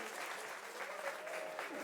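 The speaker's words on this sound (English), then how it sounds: "a huge round of applause for yourselves" A packed studio audience at a live evening show claps steadily in an even, continuous wash of applause, fairly faint and close, with a voice speaking faintly underneath.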